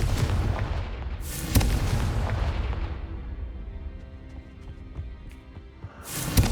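Confringo spell blasts in Hogwarts Legacy on PS5 land as heavy booming bursts, two close together early and another near the end, each trailing off into a rumbling tail.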